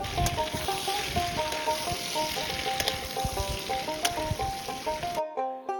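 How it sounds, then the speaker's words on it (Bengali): Duck meat frying in a wok after the onions, a continuous close sizzle with occasional stirring scrapes under faint background music, cutting off abruptly at the end. "মাংসটা কড়াইয়ে চাপিয়ে"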